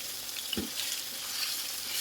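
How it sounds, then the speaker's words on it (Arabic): Ground meat fries in a spoonful of ghee in a pan over high heat, giving a steady, fairly quiet sizzle with one soft knock of a utensil partway through. "معايا معلقه سمنه، انزل باللحمه بتاعتي"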